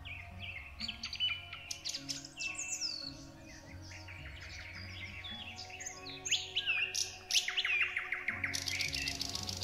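Several songbirds sing and chirp in overlapping bright, rapid phrases and trills, fairly near and continuous throughout, with no voices present.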